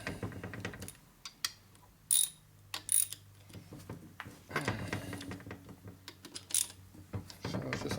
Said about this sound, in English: As tight as I can get them with the mini ratchet.